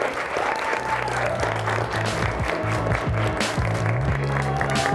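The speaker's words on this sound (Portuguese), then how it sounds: "Palmas para todas vocês!" Women in a beauty-and-diversity reality-show casting receive steady, full applause from a group, continuous clapping with faint tonal background sounds underneath and no clear talk.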